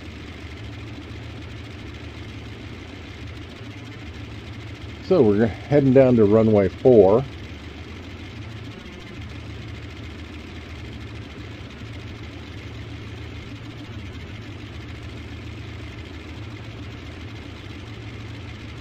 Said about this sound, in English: These old radial engines sound pretty cool.